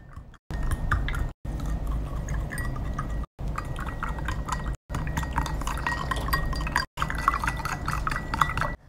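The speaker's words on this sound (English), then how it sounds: "Now I'm going to stir all these ingredients very well." A spoon stirs rice, sugar and other ingredients in a glass of water, giving steady close clinking and swishing in several continuous bursts separated by brief pauses.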